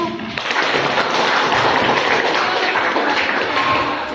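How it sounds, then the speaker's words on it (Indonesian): An audience in an in-service teacher training session applauds a presenting group, a dense, steady wash of clapping that holds at full level for about four seconds with no talk over it. "Kita beri aplaus untuk kelompok 1."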